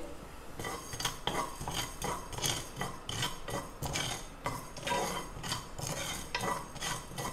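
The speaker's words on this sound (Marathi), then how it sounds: "बारीक गॅसवरती आपल्याला ते भाजून घ्यायचे।" Whole spices for Goan khatkhate vegetable stew being dry-roasted in a pan over a low flame, with a steady run of scraping and rattling strokes as a utensil stirs them close up.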